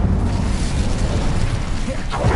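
Incendio fire spell cast in the video game Hogwarts Legacy, a loud, dense burst of roaring flame lasting a couple of seconds amid game sound effects.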